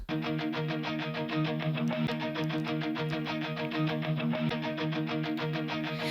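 A processed Fender Stratocaster electric guitar chugs in a fast pulsing rhythm, heavy with effects, sustaining a droning chord throughout.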